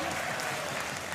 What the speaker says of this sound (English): You hear the crowd go wild.